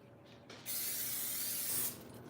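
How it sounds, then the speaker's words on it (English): Vegetable oil cooking spray is released from an aerosol can into a pan for peach cobbler, one close, continuous hiss lasting just over a second after a soft click of the nozzle. "I'm gonna spray some vegetable oil spray in my pan."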